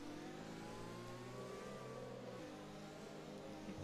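A safety car engine in a racing video game at Spa hums at a steady mid-pitched drone, slow and even with faint revving, heard alone without talk.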